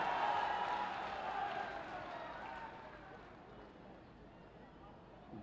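Audience applause at a medical college foundation-stone ceremony in Sultanpur, a dense, steady wash of clapping that starts loud and slowly fades over a few seconds, heard alone without speech.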